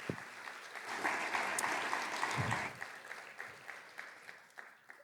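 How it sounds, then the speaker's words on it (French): A conference audience applauds the team that organized a professional event, a steady wash of clapping for about three seconds that thins into scattered, fading claps. "je pense qu'on peut les applaudir"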